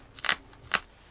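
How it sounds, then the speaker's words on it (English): Two short, crisp pinching clicks come from a Spyderco Delica blade carving a wooden spoon, close and quiet with a brief gap between them and no speech. "that pinching sound"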